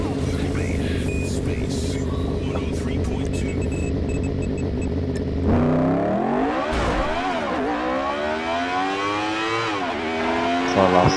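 A motorbike in GTA V (FiveM) revs hard and accelerates, its engine note climbing through rising and falling gear sweeps after a stretch of steady rumbling, loud and close.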